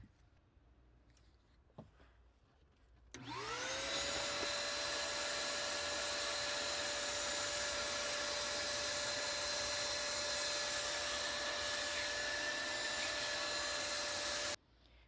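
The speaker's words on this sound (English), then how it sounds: "Bring over the vacuum, clean up this mess," After a few quiet moments, a vacuum cleaner starts up with a rising whine and runs as a steady, loud drone before cutting off abruptly.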